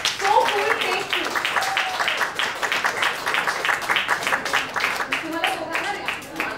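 An audience at a book launch claps in a steady patter that runs throughout, with a voice speaking over it near the start and end.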